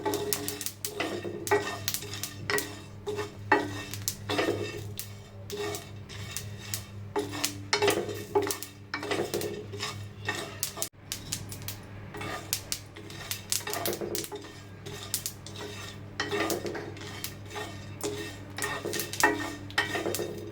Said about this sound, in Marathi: खरपूस आपल्याला हे भाजून घ्यायचं सगळं